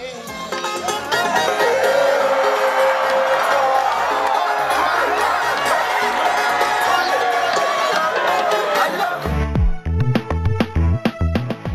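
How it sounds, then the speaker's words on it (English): Wedding reception guests clap and cheer together as a loud, steady crowd roar, with whoops and shouts rising over it, before the noise breaks into scattered, uneven claps near the end. "Yes, right here, someone clapping."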